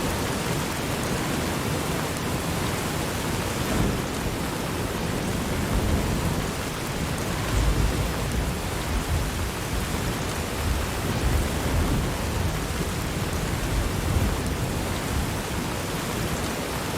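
Steady rain and a rumbling thunderstorm in a video game, a continuous dense hiss with low rolling swells of thunder, constant and fairly loud throughout with no talking.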